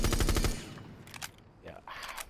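A rapid burst of automatic fire from a weapon fitted with a muzzle brake in Rainbow Six Siege, loud and punchy for half a second, then fading into quieter game sounds and a brief voice.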